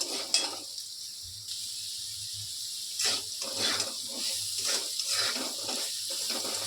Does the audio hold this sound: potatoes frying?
yes